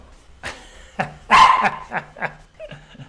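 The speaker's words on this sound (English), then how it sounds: "I don't know what he's barking at." A dog barks in a quick series of sharp, close barks, one louder burst in the middle, followed by a few softer yips.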